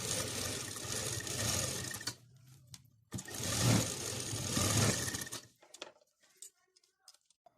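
Sewing machine stitching the side seam of a kurti in two quick runs, close and fairly loud, then stopping into quiet handling noises.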